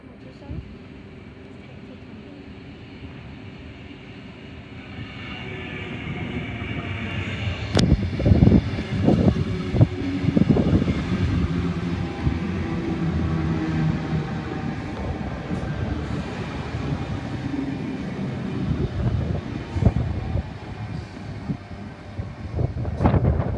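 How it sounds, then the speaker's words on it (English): A Tangara electric train pulls into a platform at North Wollongong station, its rumble and squealing brakes building from faint to loud and then staying steady, with clanks, outdoor wind and some voices nearby. "we have a Tango arriving at platform number 1"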